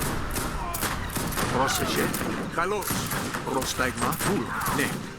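Cannon volleys in the strategy game Age of Empires 3 (Wars of Liberty mod), a rapid string of booming battle shots and gunfire crackle layered over game sounds, with a voice talking beneath.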